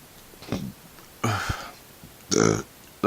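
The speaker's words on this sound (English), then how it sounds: "keep burping really weird." A person lets out a few short, loud burps spaced a second or so apart, each a rough, throaty belch standing alone against a quiet room.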